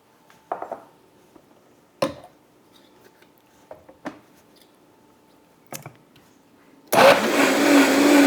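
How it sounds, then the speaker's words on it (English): Homemade tomato sauce: a few scattered clinks and knocks, then a blender roars on abruptly near the end, loud and constant as it purees the sauce. "And we're going to puree the rest of it."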